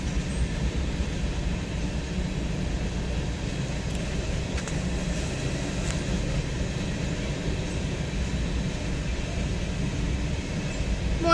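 A train rolls past with a continuous low rumble and rattle of rail cars, fairly distant and steady the whole time.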